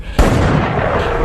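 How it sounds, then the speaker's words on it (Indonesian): A single loud pistol gunshot fires in a dramatic film scene, an abrupt sharp blast followed by a booming, reverberant tail that fills the rest of the moment. "akhirnya pistol ditembakkan ke arah Eric"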